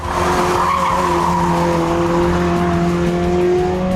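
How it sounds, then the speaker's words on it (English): A race car laps the track during a GT Academy qualifying run, its engine loud and close with rising revs and sustained tire skidding and squeal, with no talk over it. "First up is Nick in the green car"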